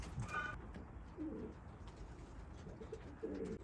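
A racing pigeon coos faintly in short soft bursts at a young-bird race, somewhat distant over steady outdoor background noise.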